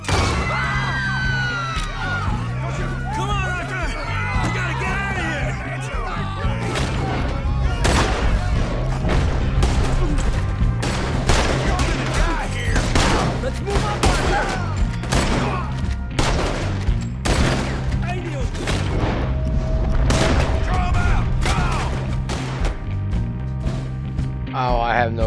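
Gunfight in Red Dead Redemption 2, with rapid repeated gunshots cracking in steady bursts over music, loud and close, while voices talk throughout.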